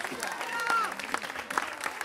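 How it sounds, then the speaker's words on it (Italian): Applause from a summer youth-camp awards ceremony audience thanking the bishop, a moderate patter of clapping mixed with overlapping voices and crowd chatter throughout. "noi lo ringraziamo con un grande applauso"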